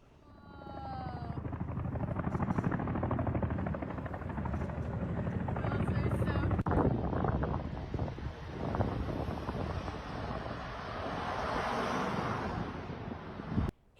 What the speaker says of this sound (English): Locals captured footage of the helicopter arrival in Utah.